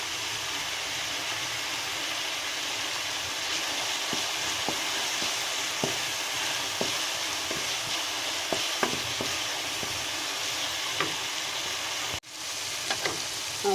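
Crushed garlic, ginger and tomato sizzling together in hot mustard oil, a steady close frying hiss with scattered pops and stirring clicks, no talk, briefly dipping near the end.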